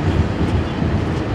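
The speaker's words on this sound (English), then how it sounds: "Got a BNSF train to go by." A BNSF freight train passing on the Staples Subdivision in Detroit Lakes, Minnesota: a close, loud, continuous rumble and roar of rolling cars, steady over a brief moment.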